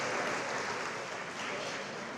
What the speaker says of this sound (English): That deserves a round of applause, yes.